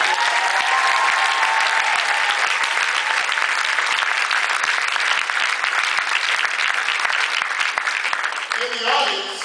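Loud, dense applause from a large audience fills nearly ten seconds, then tapers off as a voice starts speaking near the end.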